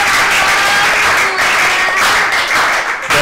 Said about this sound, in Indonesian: Masya Allah, tepuk tangannya dulu.